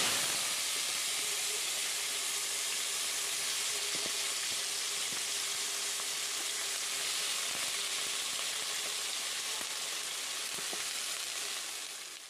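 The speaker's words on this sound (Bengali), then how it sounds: "উচ্ছে আলুটা ভাজা হয়ে গেছে" Bitter gourd and potato fry in a pan with a soft, continuous sizzle and faint scattered pops, steady for about twelve seconds before easing slightly at the end.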